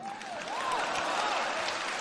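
An audience at a crosstalk comedy show breaks into steady applause that swells and holds, with a wavering whistle-like tone gliding over it.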